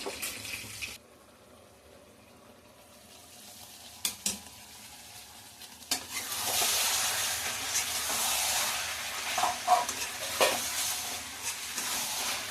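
Duck eggs fry in a pan over low gas after a splash of water, a soft hiss that swells into a steady, fairly loud sizzle with faint scrapes and clinks over it.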